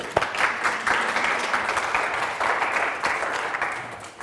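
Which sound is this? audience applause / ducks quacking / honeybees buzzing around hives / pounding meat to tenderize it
audience applause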